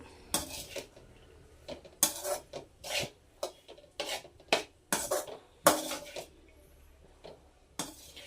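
A metal spoon stirs egg rice in a cooking pan, with irregular close clinks and scrapes against the pan and soft shuffling of the rice between them.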